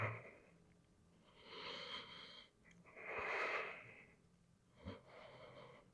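Deep, slow breaths during an advanced heart-opening yoga practice: three long, breathy swells of inhale and exhale, close and moderately loud, with a short sniff-like catch near the end and no talking.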